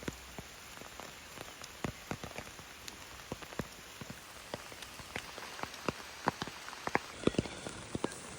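Monsoon rain falling at a hidden dam in Vagamon, where a man in a raincoat fishes: steady patter of drops on surfaces with sharp nearby drips throughout, no voices.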